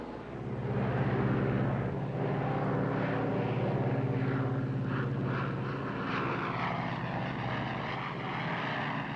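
Airplane engine at climb power during climb in 1953, a continuous loud droning propeller roar heard from inside the aircraft, steady throughout with a slight surge near the start.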